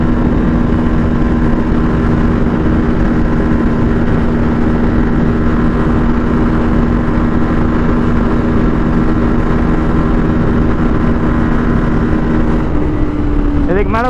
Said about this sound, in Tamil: ஆர்பிஎம் அடிச்சது உங்களுக்கு சவுண்ட் கேட்டிருக்கும்னு நினைக்கிறேன்